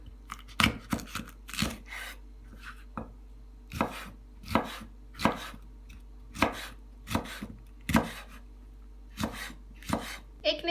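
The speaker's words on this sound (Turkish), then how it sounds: "Çekirdeklerini çıkardığımız kırmızı biberi de birkaç yerinden çizikler atıp ince ince kıyalım" A knife finely chopping a seeded red bell pepper on a cutting board, about a dozen sharp, close, evenly spaced chops with short pauses between them and no speech.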